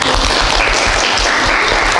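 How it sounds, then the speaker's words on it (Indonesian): Loud, close applause from a classroom of students, a dense continuous burst of clapping filling the whole moment without talk. "tepuk tangan untuk"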